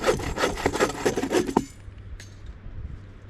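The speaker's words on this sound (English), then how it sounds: "So I'm gonna chop this off and use it as firewood" Rapid series of close, woody rasping strokes on a dry elevated branch being cut for firewood in a Canadian wilderness camp, ending abruptly after about a second and a half, followed by quiet.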